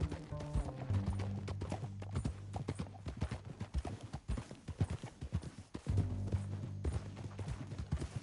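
Horse hooves clip-clopping at a steady trot in Red Dead Redemption 2, a continuous close rhythm of hoof strikes with a low droning tone beneath it.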